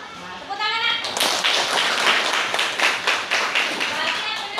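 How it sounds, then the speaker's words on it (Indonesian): Children clap their hands together in a classroom lesson, a dense, steady run of sharp claps lasting several seconds, with a voice briefly heard at the start. "Tepuk tangan, Nak."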